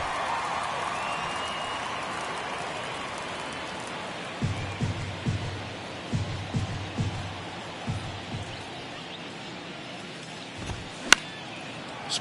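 Crowd at a baseball game between San Diego and Cincinnati forms a wide, distant wash of cheering and chatter, with scattered claps and a sharp crack near the end.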